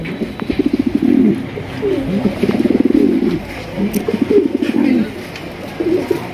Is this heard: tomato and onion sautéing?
no